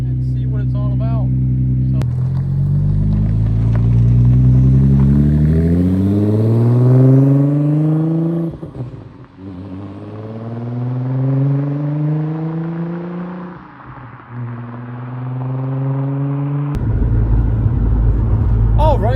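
An Audi S4 engine revs repeatedly, pitch climbing and dropping over several throttle blips, loud and close, with a steady idle rumble at the start and end.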